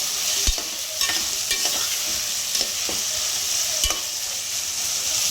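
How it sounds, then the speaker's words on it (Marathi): Vegetables for veg pulao being cooked and stirred in a pan, with a steady sizzle and scattered scraping clinks of a spoon against the pan, no talking. "आता या भाज्या आपण थोड्या शिजवून घेऊयात."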